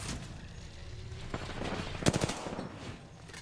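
Automatic gunfire rattles through an Apex Legends esports match, with a quick cluster of sharp shots near the middle over a constant bed of in-game noise.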